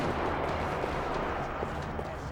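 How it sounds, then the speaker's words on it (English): Gunfire rattles across a parking lot in the video game Max Payne 3, a dense continuous barrage of shots and echoing blasts with no clear gaps, loud and close throughout. "Another parking lot rattling with gunfire."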